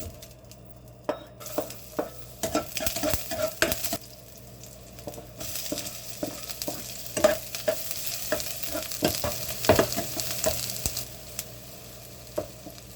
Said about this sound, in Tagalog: Lagyan na rin natin ng mantika at igisa ang bawang sibuyas.